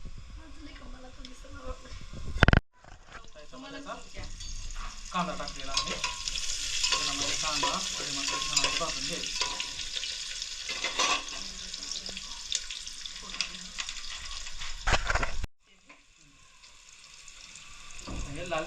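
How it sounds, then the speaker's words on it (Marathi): Whole spices and curry leaves fry in hot oil for a dhaba-style country chicken curry, giving a loud, dense crackling sizzle with stirring scrapes that starts and stops abruptly, with brief speech around it. "परत त्याच्यामध्ये कढीपत्ता टाकायचा तेलामध्ये छान असं भाजून घ्यायचा"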